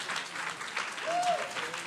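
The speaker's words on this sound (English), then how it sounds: "Clap it up for Sharon today" Audience applause at a community session, a steady wash of clapping lasting the whole stretch at moderate level, with a faint voice briefly rising over it.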